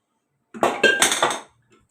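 Marinated beef pieces for malai boti go into a pressure cooker pot with a short burst of metallic clinks, scrapes and clatter of a utensil against the pot, close and clear, then silence.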